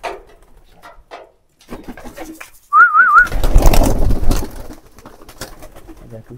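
Domestic pigeons coo while being fed paddy grain, a soft coo rising among quiet background sounds, followed by a louder burst of fluttering and scuffling near the microphone.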